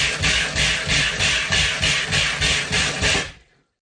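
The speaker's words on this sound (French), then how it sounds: "La pompe, elle fait du on-off parce qu'elle détecte quand il y a une chute de pression dans la canalisation." A camper van's water pump cycles on and off, driving a pulsing jet of water in about eight steady surges, close and fairly loud, with no talk, before cutting to silence.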